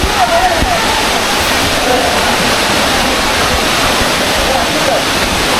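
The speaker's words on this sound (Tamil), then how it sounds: "அந்த ஃபால்ஸ் பக்கத்தில் வந்து பார்த்தீங்கன்னா வந்துட்டோம்" Aagaya Gangai waterfall in the Kolli Hills sends up a loud, constant broadband roar of falling water that fills the whole stretch with no breaks.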